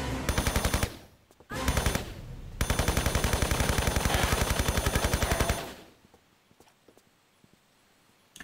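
Rapid automatic gunfire from the video game Tomb Raider III Remastered crackles in several loud, evenly spaced bursts, separated by short silences and followed by quieter sparse shots.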